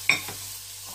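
Green chilies, spring onions and frozen peas fry in a pan, giving a soft sizzle with a sharp clink of a utensil at the start, quiet and close.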